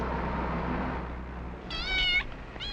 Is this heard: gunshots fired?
no